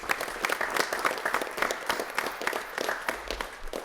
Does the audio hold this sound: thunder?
no